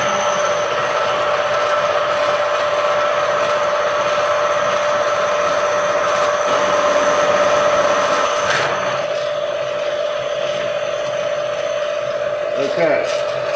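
A manual milling machine takes a cut on steel stock, its steady motor hum and tonal whine running for over ten seconds, close and loud, then winding down near the end.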